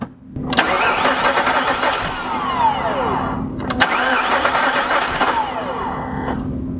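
A V8 VW Touareg engine with a compression gauge fitted cranks twice in long bursts, each several seconds long with a brief pause between them, loud and close with no talking.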